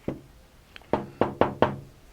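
Metal shavings being knocked out of a freshly tapped hole in a band saw blade guide part, heard as five sharp, close knocks: one at the start, then four in a quick uneven run, with no talking.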